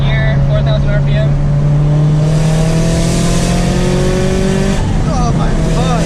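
A modded Subaru FRS sports car pulls hard in fourth gear, its engine note rising steadily in pitch, loud and close, then a gear shift and renewed climb, with voices mixed in.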